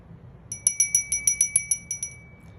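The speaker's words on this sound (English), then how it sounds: "I'm gonna ring the bell first" A small, bright bell is struck about ten times in quick, even succession before a tarot reading, each ring clear and close with a short ringing tail, in an otherwise quiet room.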